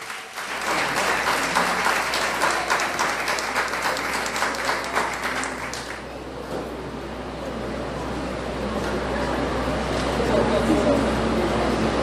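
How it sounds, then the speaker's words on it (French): Applause fills the hall for Maritza Baudouard at the Miss Haiti 2022 grand final. The clapping is dense for about six seconds, then thins into a lower crowd murmur with a steady background hum. "S'il vous plaît, applaudissez Maritza Baudouard."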